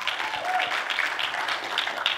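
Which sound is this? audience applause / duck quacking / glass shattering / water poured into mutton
audience applause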